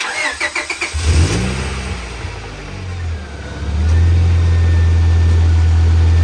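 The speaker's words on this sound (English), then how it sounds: "so I'm gonna have Joey start the car" A Honda Prelude engine, with a newly installed radiator, cranks with a quick stuttering whir, catches, and settles into a loud, steady idle close by.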